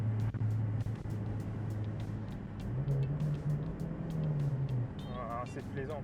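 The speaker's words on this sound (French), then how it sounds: "Ah, le petit moteur atmosphérique qui fait plaisir." A naturally aspirated Volkswagen Golf 3 engine hums steadily at low pitch, its tone rising slightly as it revs, with someone talking over it throughout.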